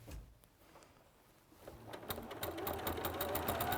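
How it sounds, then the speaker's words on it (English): A sewing machine with a walking foot stitches along the raw edge of doubled-over quilt fabric, starting quietly then running steadily and close with a fast rhythmic whirr after a brief pause. "So you're just sewing round now the edge of your walking foot to the raw edge of the fabric."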